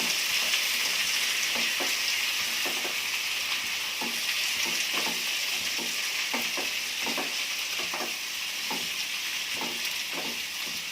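Tomato curry sizzles and fries steadily in a pan, with cut tomato pieces stirred up and down by a spoon that scrapes in regular, repeated strokes over the continuous hiss of cooking.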